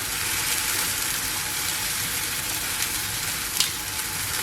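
Spring wild mushrooms fry in a hot pan with a steady, close, dense sizzle and crackle that runs throughout, with a few brief pops and no talking.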